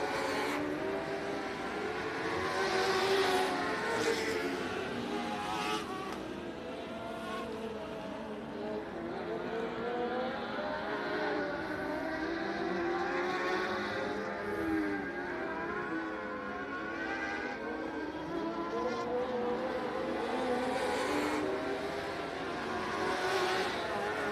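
Dirt track race cars running a heat race at Texana Raceway Park, engines rising and falling as cars circle the track, a continuous distant roar with a commentator talking over it.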